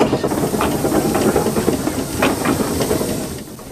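A Fowler steam traction engine at a transport event gives off a loud, steady hiss of escaping steam, broad and continuous, easing slightly toward the end, with no talking.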